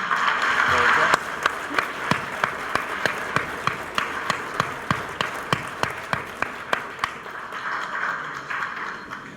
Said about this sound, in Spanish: vamos a darle la bienvenida con un aplauso fraterno.